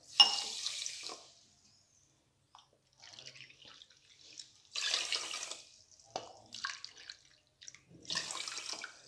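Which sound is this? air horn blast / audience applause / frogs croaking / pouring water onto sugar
pouring water onto sugar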